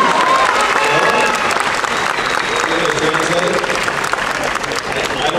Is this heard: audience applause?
yes